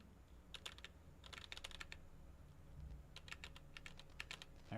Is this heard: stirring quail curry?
no